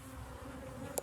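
Bees hum steadily inside a beehive with drawn comb frames, a faint, continuous low drone heard alone.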